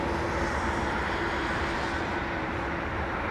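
Aircraft at London Heathrow Airport, a steady broadband engine roar with a faint whine, loud and constant for the whole stretch with no change in level and no voices.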